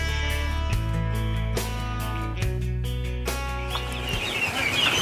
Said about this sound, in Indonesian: Ini adalah DOD atau anak bebek saya yang sudah datang kemarin